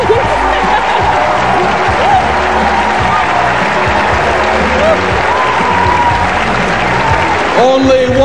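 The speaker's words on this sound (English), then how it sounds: "I knew the crowd would go crazy for Charlene Gonzalez" A packed pageant hall in the Philippines erupts in loud, sustained cheering, whistling and applause for Miss Philippines Charlene Gonzalez at Miss Universe 1994, with a continuous dense roar of crowd noise throughout.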